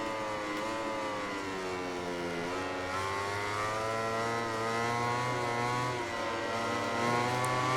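A Ducati racing motorcycle in the MotoGP 19 video game at Aragon accelerates hard, its engine whining higher through rising gear sweeps, with other bikes droning nearby and no talk over the steady, dense roar.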